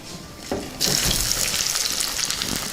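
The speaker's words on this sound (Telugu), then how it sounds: "ఇప్పుడు ఉల్లిపాయ ముక్కలు వేసుకుందాం." Chopped onion pieces hit hot oil in a pan while cooking elephant yam gravy. A brief clatter gives way to a loud, steady sizzle that continues close and bright to the end.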